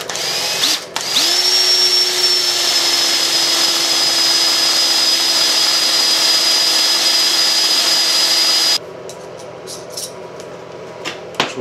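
A power drill starts up and runs at a high steady whine as it bores through a clamped guide block, holding for several seconds before cutting off, leaving faint clicks and handling noises.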